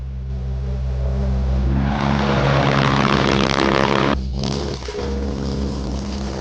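A homemade jet engine runs with a loud, steady roar that swells and holds, briefly cuts out for a moment, then picks back up, with no voices.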